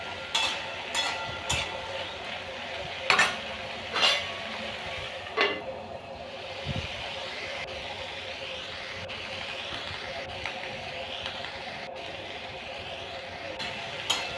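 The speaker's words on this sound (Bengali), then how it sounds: "লঙ্কার গুঁড়ো দিয়ে ভালো করে কষিয়ে নেব।" Yardlong beans, potato and soybean chunks are sautéed with ginger paste, coriander, cumin, turmeric and chili powder, giving a soft sizzle with repeated spatula clinks and scrapes against the pan, fairly quiet and close.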